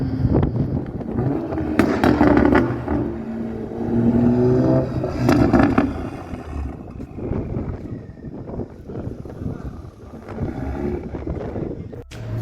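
Toyota Supra MK5 engine with its dual exhaust revving in a few rising and falling bursts, close by, with wind buffeting the microphone between pulls.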